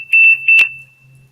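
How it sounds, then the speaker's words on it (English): A smoke alarm gives several short, piercing high beeps close by, followed by a louder sharper click, then fades to quiet. "what's on the beeping?"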